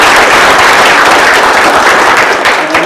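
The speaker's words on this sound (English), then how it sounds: "we can give a round of applause, everyone." Dense, loud applause fills a room at a Monterey County public gathering, many hands clapping in a continuous wash that holds steady for a few seconds before easing slightly.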